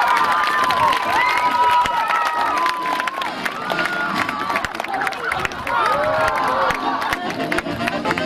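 Spectators at a school circus show for a primary school's 40th anniversary cheer, clap and shout, with children's voices rising over a lively crowd noise that swells and dips.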